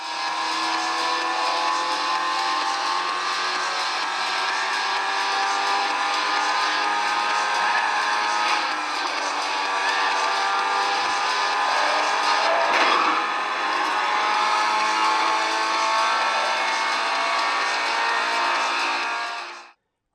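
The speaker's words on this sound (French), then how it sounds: "ou encore ici avec le jeu de course GT Racing 2." Racing cars in the mobile game GT Racing 2 roar steadily throughout, a dense, continuous engine drone with revving swells and a brief tire squeal near the middle, loud and without speech.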